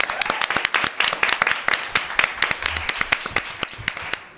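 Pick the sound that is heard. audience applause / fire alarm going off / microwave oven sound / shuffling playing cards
audience applause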